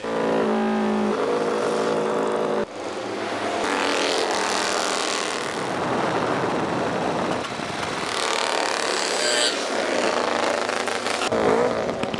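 Vintage motorcycles at a retro moto race event in St-Cergue, 2002, ride along the road toward the start line, engines droning and revving continuously at moderate distance, with shifting tones as machines pass.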